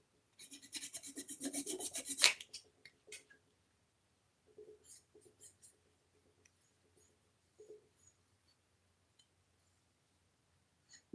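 Sanding the body of a Kyosho RC motorcycle, with about two seconds of close, dense rasping strokes followed by sparse, faint scraping and handling sounds.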